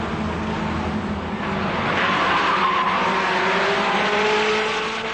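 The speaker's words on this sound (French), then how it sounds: "Les concurrents effectuent un tour de reconnaissance et de chauffe derrière la voiture du directeur de course" Race cars circulate on a reconnaissance and warm-up lap behind the race director's car, engines droning and swelling as they pass, with a tire-scrub squeal, fairly near and without talk.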